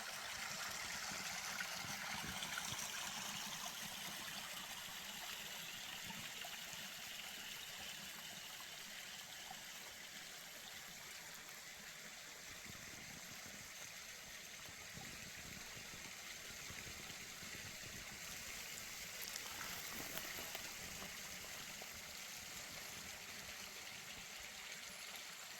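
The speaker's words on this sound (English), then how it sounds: "Under these washes, under the mountains, there is flowing water" Small mountain spring water flowing beneath a dry wash in the Mt Charleston wilderness, Nevada, a steady soft trickle and gurgle that runs continuously without a break, moderately faint and mixed with broad outdoor hiss.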